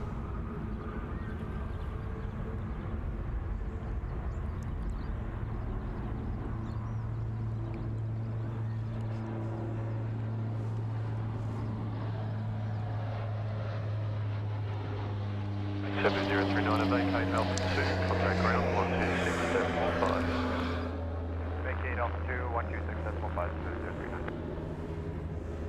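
Aircraft at Sydney Airport, a low steady engine drone that swells into a louder roar in the middle before easing off, heard from a distance while people talk and radio chatter runs throughout.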